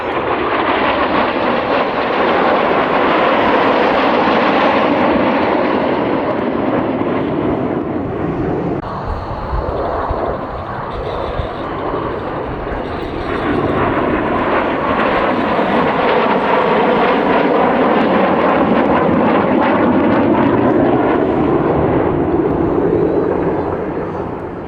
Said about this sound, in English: Not only is he flying those barrel rolls and working the aircraft hard